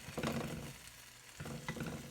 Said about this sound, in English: Now it's really sizzling away